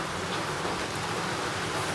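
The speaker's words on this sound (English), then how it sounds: "You see, rain a fall, as you can see." Rain falls outdoors at night on a Jamaican coast during a midnight crab hunt, a steady, even hiss that stays constant throughout.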